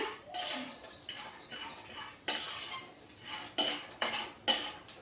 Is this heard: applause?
no